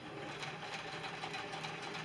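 A sewing machine runs steadily up close, its needle pounding in a fast, even rhythm while stitching a quarter-inch seam joining quilt pieces.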